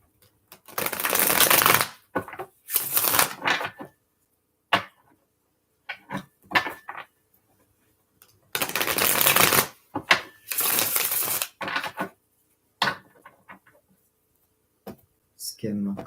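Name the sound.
tarot cards being shuffled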